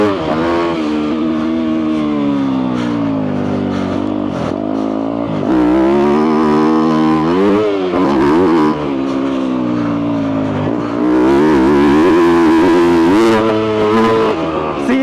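A Yamaha YZ250F dirt bike engine revs loud and close while riding, its pitch climbing and dropping through the gears and holding under load, with no talk over it.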